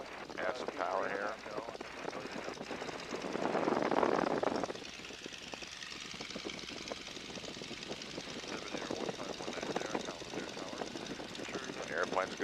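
A Boeing N2S-3 Stearman biplane's engine drones under cockpit talk, with its sound swelling briefly as power is added.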